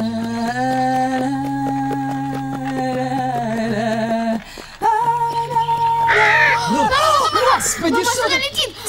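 Crows caw outdoors in a few harsh, repeated calls near the end, heard over ongoing voices and a steady tonal background.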